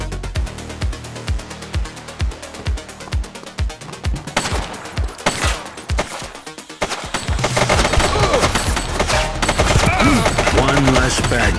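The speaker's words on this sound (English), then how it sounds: "Shots fired! Take him down!" Automatic gunfire in the police game The Precinct: rapid bursts of evenly spaced loud shots, then a dense barrage with heavy booms and layered action noise filling the second half.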